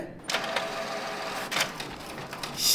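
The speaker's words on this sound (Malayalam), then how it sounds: "നമ്മളിത് പ്രിന്ററിലിട്ട് പ്രിന്റ് ചെയ്യാനായിട്ട് പോവാണ്" A home printer printing a photo onto rough handmade lotus-fibre paper, giving bursts of mechanical whirring and clicking feed noise with short pauses between passes, close and fairly loud.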